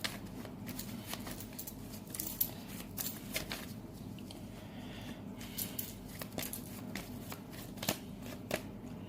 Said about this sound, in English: Sometimes it takes time to shuffle the cards.